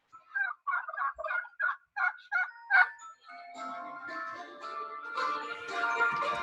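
Turkeys on a farm gobble close by, starting with a quick run of about eight choppy bursts, then a longer stretch of overlapping warbling calls.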